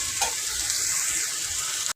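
Slices of bottle gourd fry in a pan of hot oil with a steady, bright sizzle that stays even and close for the whole stretch, then cuts off suddenly, with no voices.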